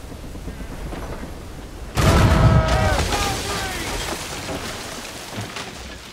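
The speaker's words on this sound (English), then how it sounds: "Cannon ready." A loud boom of ship cannon fire in the video game Assassin's Creed: Rogue erupts suddenly and rumbles away, with a whistling tail and echoing decay over a steady ambient background.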